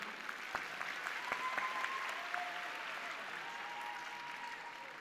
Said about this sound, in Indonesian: Nah, udah sampai luar negeri, tepuk tangan dong.